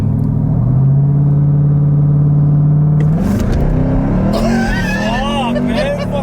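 A Jeep Trackhawk launches from a standstill, its engine droning loudly and then climbing in pitch as the wheels spin, with squealing tones rising near the end. Voices talk inside the cabin throughout.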